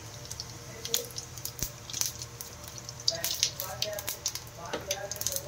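Cumin and mustard seeds sizzle in hot oil in a pan, giving a steady soft hiss with scattered pops and crackles throughout, fairly quiet and close.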